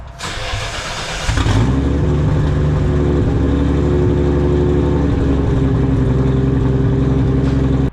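A Nissan Skyline GT-R engine starts up with a brief crank, then settles into a steady, loud warm-up idle with a low rumble that runs on unchanged.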